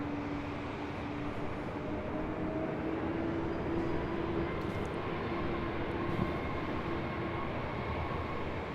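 Delta 670 heavy jet airliner on its takeoff roll down runway 24 left at Los Angeles International Airport, bound for JFK: a steady, broad engine roar that holds loud and even throughout, with no voices.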